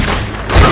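A gunshot in The Godfather II video game, a loud, sharp burst near the end of a short stretch of dense game noise, with no voices.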